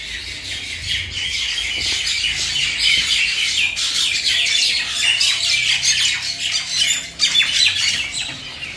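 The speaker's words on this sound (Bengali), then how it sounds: "পাখিদের কিচিরমিচির ডাক শুনতে কতটাই না ভালো লাগে।" Birds in the trees behind a house squawk and chirp continuously, a busy, fairly loud chorus of overlapping calls with no voices.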